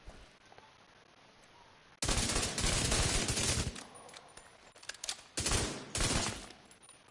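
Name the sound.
gunfire in video game The Division 2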